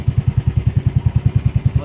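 Small engine of a fishing boat out at sea, a loud, close, rhythmic chugging pulse at a steady idle-like pace with no speech over it.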